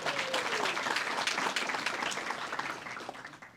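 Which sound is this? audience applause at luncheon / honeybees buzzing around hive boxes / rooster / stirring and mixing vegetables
audience applause at luncheon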